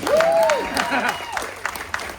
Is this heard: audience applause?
yes